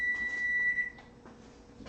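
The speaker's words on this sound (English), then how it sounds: "oh, there's my timer" A kitchen timer beeps in a home kitchen while Salisbury steak is being made, one sustained electronic tone for about a second, then fading into quiet room noise.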